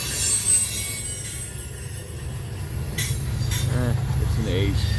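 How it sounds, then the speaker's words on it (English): A freight train rolls past with a rear DPU locomotive on a January day in Fremont, Nebraska, a steady low rumble of wagons with brief wheel squeals and metallic clinks, heard close and loud. "Here comes our rear DPU."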